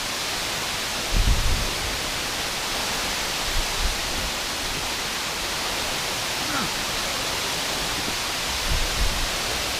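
A Hawaiian waterfall gives a steady, dense roar of rushing water that fills the whole clip, with a few faint low thumps and bumps underneath.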